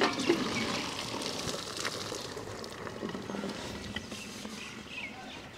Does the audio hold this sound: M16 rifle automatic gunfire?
no